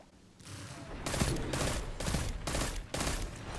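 Pulse rifle fire in Destiny 2 comes in rapid bursts, several loud volleys of clustered shots separated by brief gaps, close and dominant.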